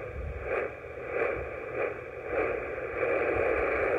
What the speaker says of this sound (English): Listen for the static on the radio.